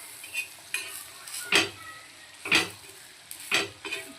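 A spoon scrapes and stirs sesame and poppy seeds dry-roasting in a pan, with four or five distinct sweeping strokes at a steady pace, close and moderately loud against a quiet background.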